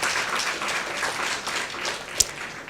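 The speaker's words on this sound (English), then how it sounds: "Let's give ourselves a big round of applause." Audience applause at an International Women's Day forum on gender equality, a brief crowd clapping that stays steady with one sharp clap standing out near the end.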